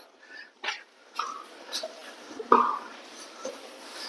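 Dogs at an animal birth control centre in Salem, a municipal facility where around twenty dogs are handled in a day, give scattered whimpers and short yelps spread across a few seconds, fairly faint, with no clear voices over them.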